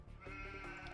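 Sheep bleating in the real-time strategy game Age of Empires 2, a couple of short, clear bleats close up against quiet game ambience.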